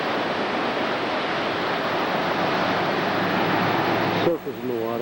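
Surf breaking along the rough rocky shore at Poipu Beach, Kauai: a loud, steady wash of crashing water close by that cuts off abruptly near the end, leaving a faint hum.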